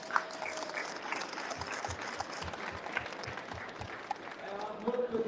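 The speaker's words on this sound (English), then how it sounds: "can you give a round of applause to my able chairman of the Independent Electoral Commission" An audience at a UDP party congress in London applauds Joseph Joshua, the Independent Electoral Commission chairman, with dense, continuous clapping that stays moderate and then swells slightly toward the end, with faint voices beneath.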